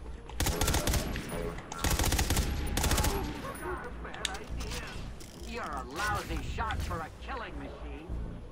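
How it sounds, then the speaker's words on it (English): Rapid bursts of automatic gunfire crackle through a gritty cop shooter video game, loud dense volleys in the first few seconds giving way to scattered shots and mechanical clatter, with a voice speaking over the action. "Who's shooting?"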